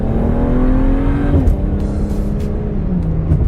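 A supercar cruises at quarter throttle just after leaving the highway, its engine giving a loud, close, steady drone that drops in pitch partway through, with wind and road noise underneath.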